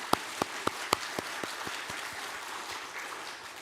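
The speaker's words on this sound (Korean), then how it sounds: "우리 감사와 격려의 박수 보내겠습니다." A small church congregation at Sunday worship applauds its choir, opening with a handful of crisp, distinct claps close by that soon thin into softer, scattered clapping and fade, fairly quiet overall.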